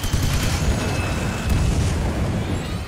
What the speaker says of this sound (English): Enough damage and it'll detonate.